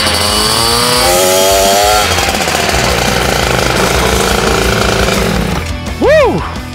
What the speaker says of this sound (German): der Motor läuft.